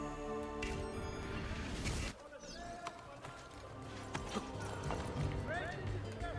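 Horse hooves clip-clop in a rapid run amid Assassin's Creed Brotherhood game music and effects, with a neigh and voices talking underneath.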